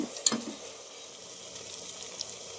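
Chopped apple tomatoes fry in a pan with a faint, low sizzle and a brief clatter near the start, quiet and steady with no talking.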